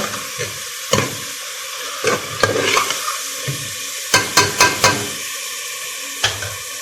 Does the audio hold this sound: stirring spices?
yes